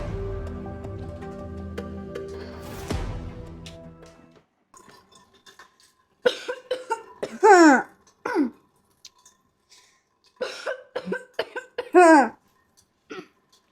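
A boy coughs in a series of harsh bursts, clustered in two bouts separated by a short pause, after a stretch of steady background noise and a clinking sound.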